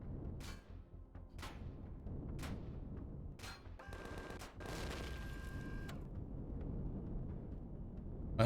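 Sentry guns fire repeatedly in Empyrion Galactic Survival, a series of sharp bursts spaced roughly a second apart over constant game rumble, with a brief steadier mechanical whine midway through.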